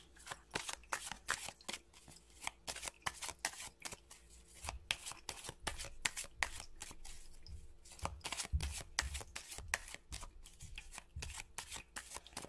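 Marseille tarot cards are shuffled by hand in repeated quick riffling bursts, close and fairly quiet, with soft pauses between the passes and a faint background hum.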